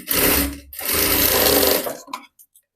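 A sewing machine stitches the lining and outer fabric of a half-collar blouse together in two steady runs, with a short pause between them and quiet handling sounds afterward.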